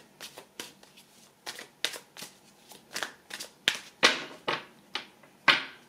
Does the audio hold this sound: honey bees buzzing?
no